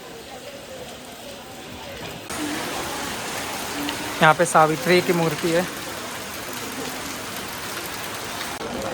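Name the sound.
rain falling at Kalighat temple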